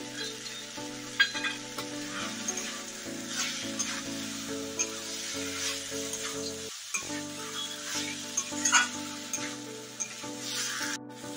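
Peanuts frying in a pan for a paneer roll filling, a steady crackling sizzle under a low background hum, with occasional stirring clinks throughout.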